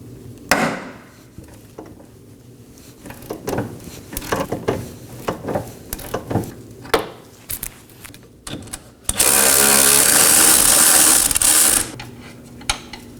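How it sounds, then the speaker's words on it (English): A ratchet works on an upper control arm nut of a 2018-2024 Chevrolet Equinox while a wrench holds the bolt, giving a run of close metallic clicks and clunks, then a sustained loud grinding burst as the nut breaks free. "We'll be putting a ratchet on the nut side and holding the bolt side with a wrench."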